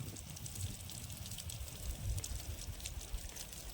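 A pesticide sprayer jets water onto a henna bush, a continuous, fairly quiet hissing spray with a low rumble underneath and no talk.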